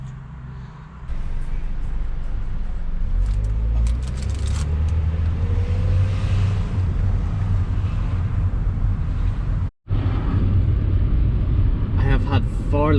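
A 1999 Renault Clio 1.6 Initiale cruises on a motorway, heard from inside as a steady low road and engine rumble with wind noise, continuous and fairly loud, with a brief dropout near the end.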